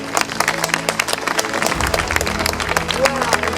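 Audience applause at a VFW post Veterans Day ceremony, many hands clapping in a quick uneven patter nearby, with voices and crowd noise mixed in.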